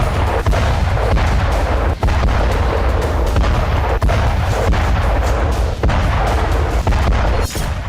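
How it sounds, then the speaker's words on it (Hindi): Heavy booming blasts repeat every second or two over a dense, continuous rumble, loud and close. "धरती को फाड़कर पाताल में धमाका करने वाला बम"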